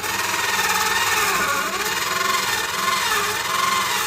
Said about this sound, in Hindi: मैं इसको बाईपास करता हूँ, करते हैं सुराख इसका।